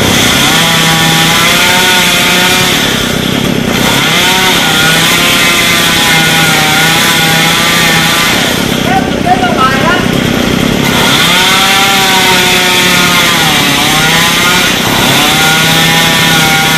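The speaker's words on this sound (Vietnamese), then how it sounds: "Hồi ba của Hoa chắc là cưa hai cái nhánh này nữa" A chainsaw saws through golden oak branches, its engine droning loud and continuous with repeated dips and revs as the cut loads and frees, close by and dominating throughout.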